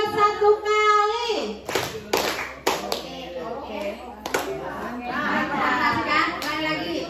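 A group of people at a teachers' training session in Tanggamus, Lampung, Indonesia clap together in short counted bursts of one, two and three claps, crisp and close, with voices talking and calling out between the claps.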